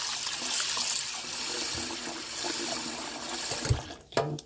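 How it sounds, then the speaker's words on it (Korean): Oysters are rinsed in cold water, giving a continuous close trickle and splash of running water with small sloshes and a few clunks near the end. "찬물에 헹구실 거예요."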